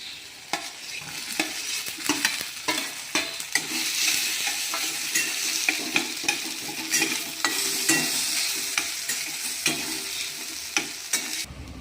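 Green chili paste and mashed potato stirred in a frying pan for fasting batata vada, a continuous close sizzle broken by regular scraping and tapping strokes of a spoon, with no voices.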